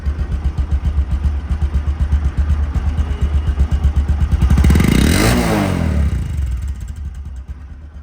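A used Bajaj Discover 125cc motorcycle idles with a loud, close, rhythmic putter, rises into one strong rev, then drops back to a steady idle.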